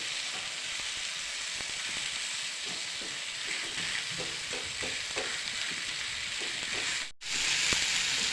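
Marinated tandoori chicken pieces sizzling in a pan on a gas stove, a close, even hiss with light stirring clicks, briefly cutting out near the end before resuming.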